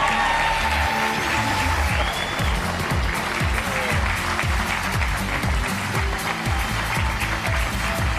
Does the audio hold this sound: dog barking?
no